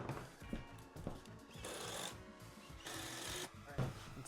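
A power drill whirs in short bursts while pre-drilling and driving screws into wood for a patio chair, with knocks and handling noise between runs.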